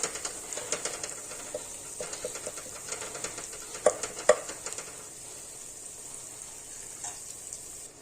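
Ginger garlic paste fries in oil for a mutton curry with a soft, continuous sizzle. Light scraping and tapping from stirring come through over it.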